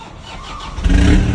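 A pickup truck engine with a weak battery cranks sluggishly for a moment, then catches and roars to life close by, settling into a loud rumble.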